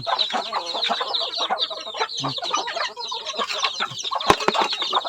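A small bantam chicken clucks in short, repeated bursts close by, with fowl chatter throughout and a sharp knock near the end, no speech.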